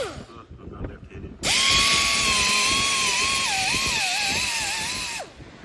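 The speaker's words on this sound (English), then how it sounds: "I took a Roll-Lock and went ahead and got most of the paint off the end of that bolt there" A Roll-Lock abrasive disc on a power tool spins up and grinds paint off the end of a bolt on a Banshee, a loud steady high whine lasting about four seconds before winding down.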